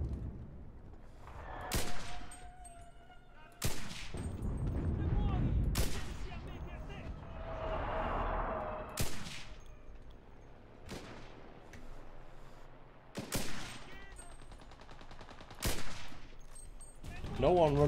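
Gunfire in the video game Enlisted, Tunisia campaign: a run of sharp, loud shots spaced a couple of seconds apart, each ringing out with a long tail over a constant rumble of battle ambience, with someone talking over it.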